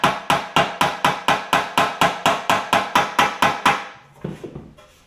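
A hammer strikes a 1959 Chevrolet Bel Air sheet-metal valance panel in a fast, even run of about fifteen loud, ringing metallic blows, then a few softer, irregular taps.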